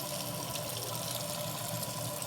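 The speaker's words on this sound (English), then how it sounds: "I'm wasting water as it is running down the drain" Tap water pours steadily into a sink and down the drain while makeup brushes are washed, a continuous close hiss with no talking.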